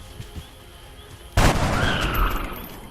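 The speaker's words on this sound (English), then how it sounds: "we'll let the sniper take a shot" A single sharp sniper rifle shot from XCOM Long War bursts out loudly after a quiet lead-in, its boom ringing and decaying over the following second.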